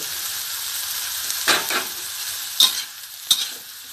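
Blanched mustard greens are stir-fried with curry paste in a hot pan, a low background sizzle broken by several sharp scraping and tossing bursts up close.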